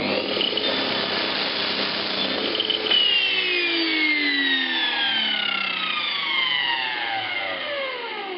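A handmade slide table saw driven by a circular saw cuts wood at a 45-degree angle, a loud high whine that bites into the cut, then winds down in a long falling tone.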